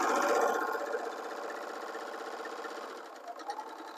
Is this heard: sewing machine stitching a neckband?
yes